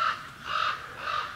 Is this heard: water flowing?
no